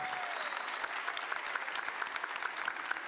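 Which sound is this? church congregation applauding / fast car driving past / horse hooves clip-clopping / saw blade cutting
church congregation applauding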